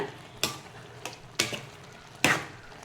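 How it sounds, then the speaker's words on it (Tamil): Prawn gravy with chilli powder stirred in a pan: four sharp spoon scrapes and knocks against the pot, spaced irregularly over a low, soft simmer, with no voices. "சேர்த்துட்டு இதை நல்லா கிளறி விடுங்க"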